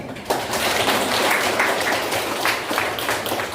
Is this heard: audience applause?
yes